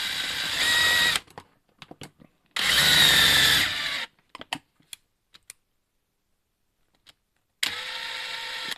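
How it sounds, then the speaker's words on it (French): A power drill bores into a plastic part of an RC car kit, running in loud whining bursts of about a second each, separated by quiet gaps with small clicks and taps. "Là, le plastique, il veut pas se laisser percer."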